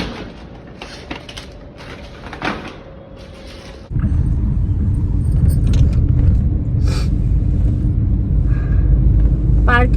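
A car rumbles to life and pulls out of a DMart parking lot at night, a steady close engine drone filling the second half after a quieter start with a few knocks and thumps, people talking over it.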